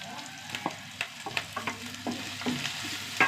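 Shallots, ginger, crushed garlic and curry leaves frying in oil in a pot, a soft steady sizzle broken by several sharp scraping stirs at irregular intervals, close and alone.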